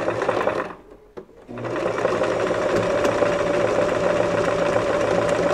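Home sewing machine stitching a zigzag seam along a fabric edge, a loud steady mechanical whir that stops briefly near the start and then runs continuously.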